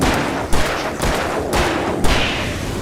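Repeated gunshots fired at an enemy in the video game Alan Wake Remastered, four sharp loud reports spaced about half a second apart over a dense, rumbling game soundscape.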